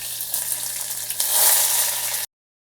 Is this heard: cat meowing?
no